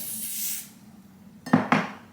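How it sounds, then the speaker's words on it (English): A brief hiss of spray is applied to hair before a wig is laid down, followed by two sharp clicks or taps of the bottle, close and fairly quiet, with no talking. "So I'm putting down the spray where I want the wig to be."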